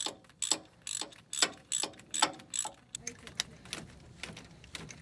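A hand ratchet with a 7mm socket tightening a nut on a Duramax diesel glow plug, a quick series of close, sharp clicking strokes, about a dozen in rhythmic bursts, with some quieter handling noise near the end.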